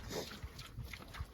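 Soft, low grunts from domestic pigs come in short bursts, faint and close by, with no talking.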